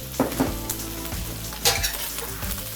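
Finely chopped cabbage stir-frying in a pan, a constant close sizzle broken by a few quick stirring scrapes and light utensil clicks.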